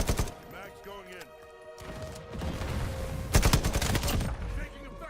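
Bursts of rapid incoming gunfire crackle and rattle in the Modern Warfare 4 video game. Two dense volleys come close and loud, separated by a brief lull, with a voice speaking over parts of the firing.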